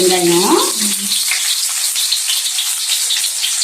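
Onions drop into hot oil in a pan for pumpkin perattal and sizzle loudly, a close, continuous hiss of frying following a short spoken phrase at the start.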